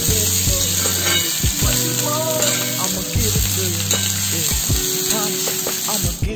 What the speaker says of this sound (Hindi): अब हम इसमें जो एक्स्ट्रा वेजीज है वो सब डाल देंगे। कैरेट, बीट और फ्रेंच बीन, इसे भी साथ मिलाकर